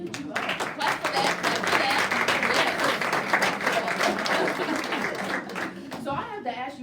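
An audience at a live show at the Backhouse claps steadily, a dense patter of many hands that carries on for several seconds, with scattered voices and cheers mixed in and the clapping thinning near the end.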